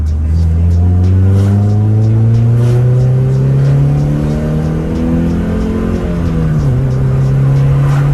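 A Honda Prelude 5 pulls away in second gear, its engine note climbing loud and close as revs build steadily, then dipping briefly near the end before rising again.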